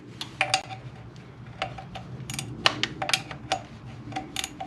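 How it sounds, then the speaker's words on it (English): Rapid metallic ratcheting clicks from a long 10mm combination wrench loosening a fastener on a Honda or Acura V6 during a thermostat replacement, coming in quick close bursts with small clinks between them. "Long 10mm wrench. One end is fixed, the other one is ratcheted."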